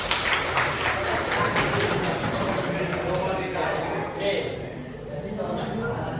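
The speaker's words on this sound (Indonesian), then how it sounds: "Tepuk tangan untuk naswa." Applause from students in a twelfth-grade civics classroom at an Islamic senior high school, a dense, steady patter of hands filling the room for several seconds, with a faint voice under it.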